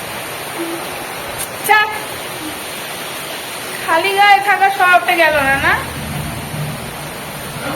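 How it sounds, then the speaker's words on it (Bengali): A heavy evening rainstorm roars as a steady, loud wash of noise throughout, while people talk close by over it. "বৃষ্টিটা হেভি জোরেই নেমেছে"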